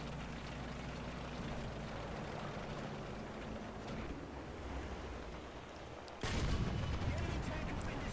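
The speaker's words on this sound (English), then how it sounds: "we shoot him right into the ammo rack and blow him up" In a tank combat video game, a tank gun fires into an enemy tank's ammo rack, setting off a sudden loud blast late on after a stretch of rumbling battlefield noise.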